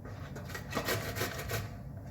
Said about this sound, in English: now it is time to grate our cauliflowers